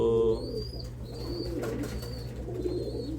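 Soft coos from racing pigeons in a loft repeat at a low pitch against steady background noise, with a few faint higher chirps scattered on top.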